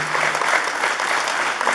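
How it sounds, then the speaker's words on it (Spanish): Audience clapping at a civic ceremony in Naupan where officials hand over a roof for a high school, a sustained, even wash of many hands. "Síndicos, Eloria Cayetano González, un fuerte aplauso por favor."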